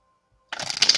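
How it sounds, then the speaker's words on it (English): A deck of tarot cards being shuffled, a soft dense riffle of papery flicks that starts suddenly halfway through and continues steadily, close and fairly clear. "One more shuffle, and then we will cut and pull cards."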